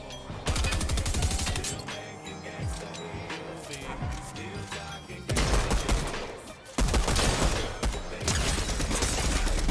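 A drum gun fires in a Fortnite match, long rapid bursts of automatic fire stacked with other shots and clinks, loud and close, with a break in the middle before the firing resumes.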